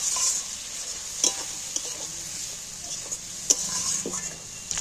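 Fish roe sautéing with soy sauce and masala-rinse water, a soft, even sizzle at moderate distance, with a few sharp spatula taps against the pan scattered through. No speech.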